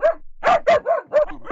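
A dog barks in a rapid series of about five loud, close yapping barks in quick succession.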